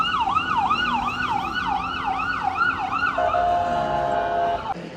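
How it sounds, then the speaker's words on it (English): An ambulance siren in Mazatlán, Mexico, arriving at a hospital next door, wails loudly in a rising and falling pattern, then shifts to a steady high tone over faint traffic rumble. "there are ambulances that come to the hospital right next door"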